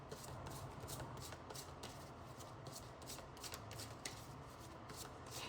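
A deck of tarot cards is shuffled close by: a continuous soft papery riffle with rapid repeated flutters runs throughout at low volume, with no voice.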